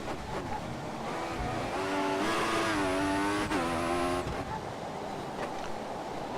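An F1 car in the F1 2014 game at the Sochi Russian GP loses traction on worn tyres, its engine note rising and wavering loudly through a wide corner with a high tonal squeal for a couple of seconds.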